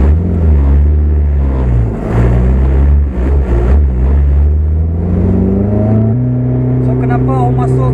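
A 2ZZ engine in a Toyota Corolla AE111 sedan with four throttles and a six-speed manual revs up and down repeatedly, loud and close, its pitch climbing and dropping before settling to a steady higher hold.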